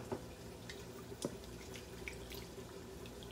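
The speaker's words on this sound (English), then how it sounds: "I'm going to put some more water, which is another cup" A cup of water pours into a pot of African peanut soup, a short burst of trickling and splashing with a few drips, quiet and close.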